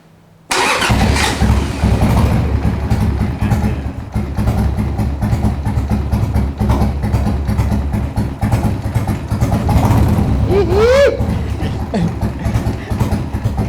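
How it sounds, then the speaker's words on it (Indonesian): A Harley-Davidson motorcycle engine cranks and catches after a brief quiet start, then settles into a loud, steady, throbbing idle close to the microphone, with a short whistle-like tone near the end. "Nih boleh dihidupin nggak Yan? Hidupin Om. Boleh ya? Aja Om. Coba hidupin."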